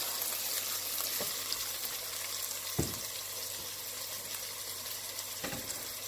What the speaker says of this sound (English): it's safe to put in the ginger and garlic that we've mashed